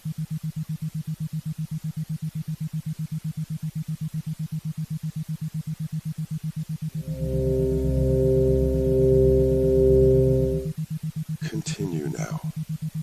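A sustained meditation tone swells for several seconds over a constant low electrical hum, followed by a brief rising chirp-like sweep.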